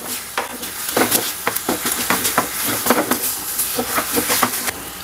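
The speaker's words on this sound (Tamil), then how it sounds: "இப்போ வந்து நல்லா இதை வதக்கிக்கலாம்" Crushed garlic and rasam powder sauté in a hot pan, with a steady sizzle and repeated scraping stirs of a spoon at an even rhythm, close and clear with no talk.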